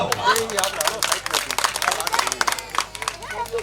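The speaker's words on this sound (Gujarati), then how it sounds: "આજે કાંઈ સંકલ્પ ચેરિટેબલ ટ્રસ્ટ ને તાળીઓના ગડગાટથી વધાવો" A crowd at an outdoor mass wedding dayro program claps in a dense burst of applause, with a voice speaking loudly over the clapping throughout.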